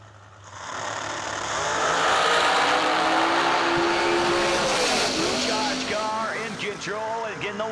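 A dragster and a Pro Charger car drag racing, engines roaring loud and close as they launch, then a sustained, steadily pitched scream fading into tire and engine chatter, with an announcer's voice over it.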